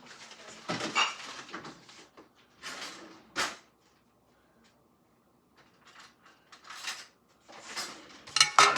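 A metal pizza pan gets handled in a home kitchen while making pizza, with scattered clanks, scrapes and rattles in irregular bursts, close by, separated by short quiet gaps.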